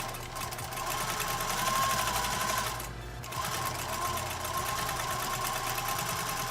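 A sewing machine runs steadily while stitching an auxiliary seam about 0.7 cm in along the curved neckline of a shirt-style blouse, pausing briefly midway before resuming its loud, continuous whir.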